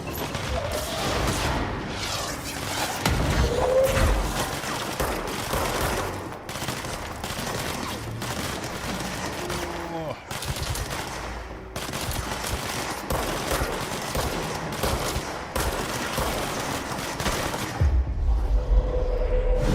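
Sustained gunfire in the video game Control, dense volleys and bursts running almost without pause for about eighteen seconds, loud and close, with impacts and crashes mixed in, then easing toward the end.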